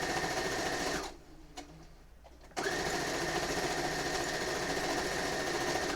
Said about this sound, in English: let's sew the horizontal pieces together